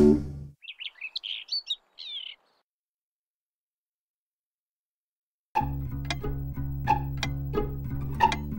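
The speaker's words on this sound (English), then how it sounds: "Down came a blackbird and popped upon her nose." Cartoon blackbird chirping in a Mother Goose nursery rhyme, a short run of bright whistled tweets after a sung phrase ends, then silence before music with chiming notes starts.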